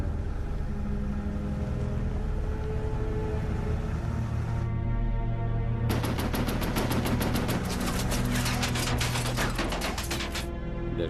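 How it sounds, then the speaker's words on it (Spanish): A WWII tank's guns fire into the dark during a night battle at a Canadian-held intersection, a sustained loud rumble giving way to a long rapid machine-gun burst. "Desde el tanque disparan en la oscuridad"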